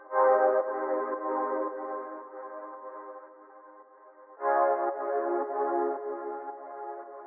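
A Spire synthesizer lead patch with reverb and EQ plays a sustained, bright, harmonically rich melodic line in two phrases, the second entering louder after a brief dip, with no talk over it.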